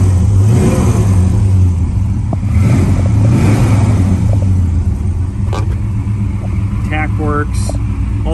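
A 1955 Chevy 210 engine, already warmed up, idles with a steady low rumble and then revs, the pitch climbing and falling in a few swells, close and loud under a voice.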